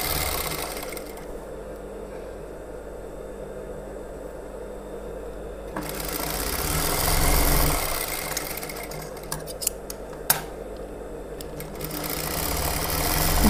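A sewing machine stitches the shoulder seams of a blouse, running steadily and close with a continuous mechanical whir that swells slightly midway and includes a few sharp clicks near the end.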